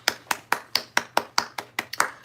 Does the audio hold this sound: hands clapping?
yes